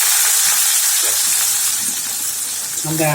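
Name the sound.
onions frying in a pan with vadagam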